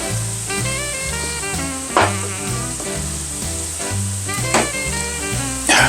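Peppers, onions and garlic sizzle in butter and olive oil in a pan, a steady close frying hiss with a few brief louder spatters, heard alone with no talk.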